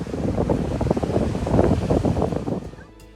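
High ocean waves roll onto a beach, heard as a loud, rushing wash mixed with heavy wind buffeting the microphone, surging and easing before fading near the end.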